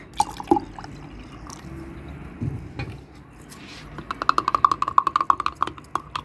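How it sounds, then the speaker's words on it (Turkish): Water poured into a container of dissolved yeast for a five-litre mix, with scattered drips and splashes, then a rapid run of small bubbling trickles near the end; faint background sounds and no clear talk. "Hatta biraz daha su döküp"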